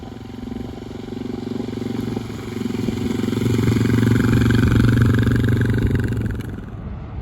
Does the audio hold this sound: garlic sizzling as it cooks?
no